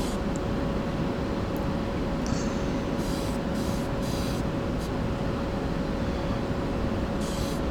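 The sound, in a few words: spray painting light even coats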